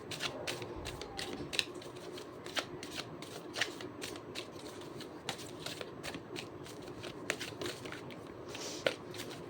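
Tarot cards being shuffled by hand, a dense run of crisp riffling snaps and slaps repeating steadily and close by, with no talk.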